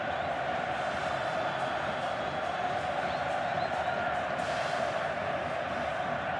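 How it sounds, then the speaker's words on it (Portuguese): Grêmio supporters at Estádio Olímpico during a Copa do Brasil semi-final against Palmeiras, a dense continuous stadium crowd roar that swells slightly, with commentary voices faintly mixed in. "Se anima a torcida do Grêmio aqui no Estádio Olímpico."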